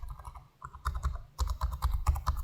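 Typing on the keyboard of an Asus ProArt P16 (2025) laptop gives fast, quiet, close clicks in irregular bursts with a short pause partway through, and no voices over them.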